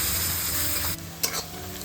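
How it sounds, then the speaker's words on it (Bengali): Onions fry in hot oil tempered with whole garam masala, giving a bright steady sizzle that drops off partway, followed by a quick scrape of a spatula stirring the pan. "পেঁয়াজটা ভেজে নেবো"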